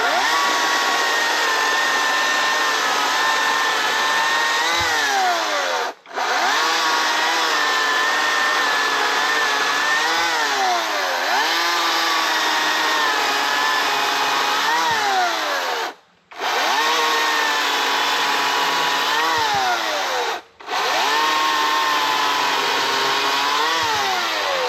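A Harbor Freight Atlas chainsaw cuts firewood, its loud, close engine whining steadily with rising and falling pitch as it bites through wood, pausing briefly three times.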